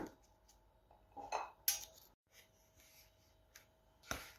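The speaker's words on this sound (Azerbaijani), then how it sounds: "İndi boşqabın içinə qoyuram." Kurabiye cookies are set down onto a plate in a quiet room, making a few soft, close clinks and light scraping taps spread over a few seconds.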